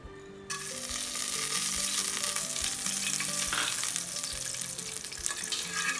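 Tomato sizzles steadily in ghee with cloves, cinnamon and cardamom, a dense, continuous frying hiss with faint stirring scrapes as prawn biryani is prepared; no talking.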